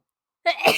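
A single sharp sneeze, brought on by cold weather, bursts out close to the microphone after a moment of silence, a quick intake followed by a loud, breathy explosion.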